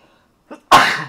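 One sharp, close sneeze bursts out after a faint intake of breath, loud and sudden in an otherwise quiet room.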